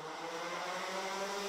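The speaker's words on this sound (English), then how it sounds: "Revs rise, lights are on." Junior Max Rotax racing karts on the grid at the Circuit de Landsard before a Dutch Championship race start, their engines holding a steady, buzzing drone as revs build, distant and unbroken.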